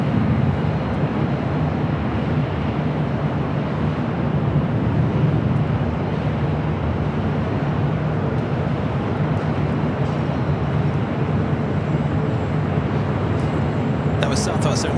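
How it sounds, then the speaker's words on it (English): Southwest Airlines Boeing 737-700 jet at LAX, a loud, steady broadband engine roar with low rumble filling the whole stretch, close by, with faint sharp clicks near the end. "That was Southwest Airlines Flight 4428 coming up from San Jose, California, 737-700."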